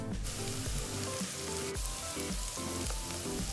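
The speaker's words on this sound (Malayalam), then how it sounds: "ഇനി ഇത് നന്നായിട്ടൊന്ന് സോട്ട് ചെയ്ത് കൊടുക്കുക" Onion with ginger garlic paste sautéing in a pan for a Kerala-style chicken stew, a steady loud sizzle with repeated scraping stirs, no voices.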